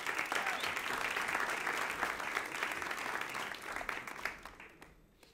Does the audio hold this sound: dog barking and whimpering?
no